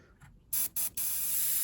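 An airbrush fed by a compressor hisses in short bursts, then sprays paint steadily onto a 1/32 scale model aircraft, a bright close spraying noise with no speech.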